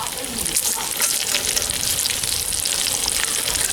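Cheeseburgers fry on a fajita pan over coals, giving a steady, dense, close sizzle that hisses continuously without pause.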